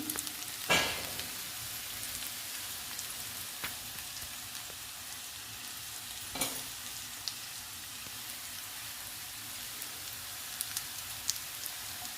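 Sliced okra frying in a pan with chili powder, an even crackling sizzle like light rain throughout, with an occasional stir or clatter of a spoon against the pan.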